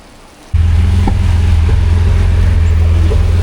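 A Lamborghini passes on a city street in Shenyang, China, its loud, steady low engine roar starting suddenly and holding close and strong throughout.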